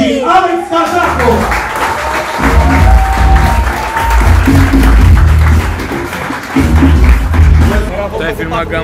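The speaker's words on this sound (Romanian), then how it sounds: "Vreau frumos să-i aplaudați pe Dragoș Mitran și Alex Cazacu!" An audience applauds in a lively crowd, steady clapping rising and falling over several seconds, with voices and some background sound mixed in.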